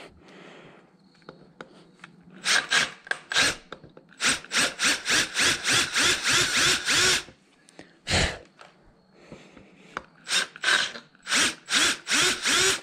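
A power drill fitted with a countersink bit bores into wood while building a Smitty sled, sounding as a series of loud, close whirring bursts that rev up and stop in a rhythmic sequence, with short pauses between them.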